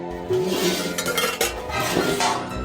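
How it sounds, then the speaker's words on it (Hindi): Metal pots and utensils clatter and clink as they are pushed aside beside an earthen pot, a busy run of close, moderately loud knocks and scrapes with no talking. "उसके पास ही रखे हुए बर्तनों को सरकाकर दूर कर रहा था"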